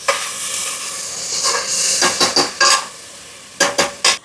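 Tomato, onion, green chilli, ground onion and ginger-garlic paste sautéing in a pan for a country chicken curry, a soft sizzle broken by a quick series of sharp spoon-against-pan stirring scrapes, close and fairly loud.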